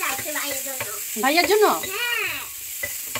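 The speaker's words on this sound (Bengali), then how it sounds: "আমরা এখানে হচ্ছে যে চিকেনটা ফ্রাই করতেছি" Chicken fries in a pan with a continuous soft sizzle and some stirring, while voices talk over it throughout.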